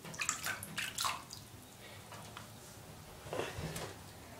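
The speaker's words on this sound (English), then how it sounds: "I'm gonna see what happens if I splash some water on here." Water splashes in a bathtub in a few short, close bursts, with quieter sloshing between them and another cluster of splashes later.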